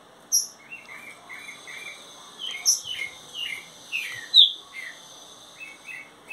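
Green-winged saltator singing up close in sharp, bright phrases, with rising and falling notes separated by short pauses, over a faint background of insect chirping.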